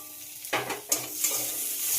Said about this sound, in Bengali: বেগুন নিম পাতার সঙ্গে আবারও খুব ভালো করে ভেজে নিতে হবে